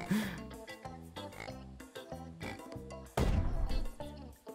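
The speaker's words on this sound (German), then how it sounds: "Ah, kleine Schweinchen räumen alles ab." Little pigs in the VR bowling game PePiBo Peregrino Pinata Bowling oink in quick repeated bursts, then a sudden crashing impact cuts in before the squealing continues, with a voice faintly underneath.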